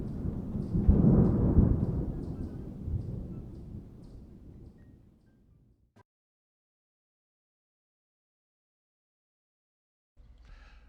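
A thunderstorm sound effect played during a solo Shakespeare monologue performance: a loud rolling thunder rumble that swells early, then slowly fades to silence, followed by a brief faint noise at the end.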